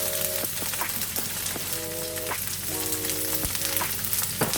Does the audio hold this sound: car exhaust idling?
no